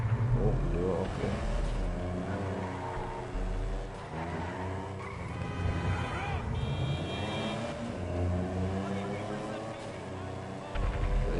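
A fast two-wheel-drive car in GTA V revs and accelerates, its engine note climbing and falling through several gear changes, loud and close with a brief skid-like squeal partway through.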